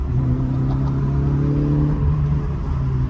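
A Peugeot 205 GTi engine, running again after ten years, holds a steady, loud, close rumbling idle with a smooth low drone, and no speech over it.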